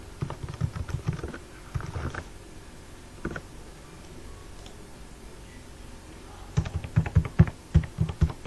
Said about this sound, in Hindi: चलिए मैं अब टाइप कर लेता हूँ।